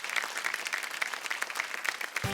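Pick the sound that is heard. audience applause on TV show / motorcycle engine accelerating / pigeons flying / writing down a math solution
audience applause on TV show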